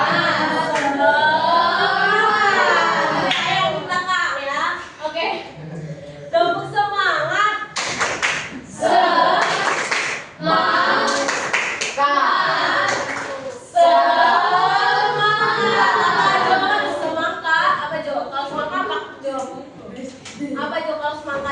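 A classroom of students performs a rhythmic spirit clap in bursts of patterned hand claps, loud and close, mixed with voices chanting and talking between rounds.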